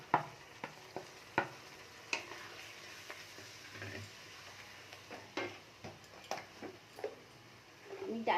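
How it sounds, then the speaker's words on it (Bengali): Ground spices stir-fried with a splash of water in a pan for rajma rice, with soft sizzling under repeated sharp scraping and tapping of a stirring spoon, quiet and close. "সামান্য একটু জল দিয়ে দিলাম, আর এই গুঁড়ো মশলাগুলো সব একসাথে দিয়ে আমি ভালো করে কষে নেব।"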